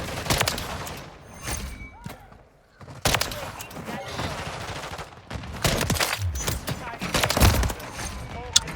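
Rapid gunfire bursts and fusillades in a first-person shooter match with a KV Inhibitor quickscope loadout, loud and dense throughout with a short lull near the middle, under faint voice chatter.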